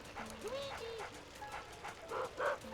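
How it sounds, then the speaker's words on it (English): A small dog in the Mario's Mansion video game yaps and whimpers in a few short, high calls, fairly faint, with a speaking voice partly over it. "make that yabby dog quiet"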